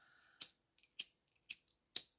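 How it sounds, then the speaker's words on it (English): Small ducky-shaped scissors snip four times at a steady pace, each cut a crisp, close metallic click in near silence. "You love your ducky scissors"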